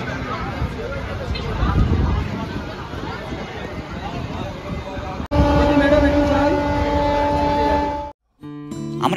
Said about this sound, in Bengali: আমরা এখন পৌঁছে গেছি দমদম মেট্রো স্টেশন।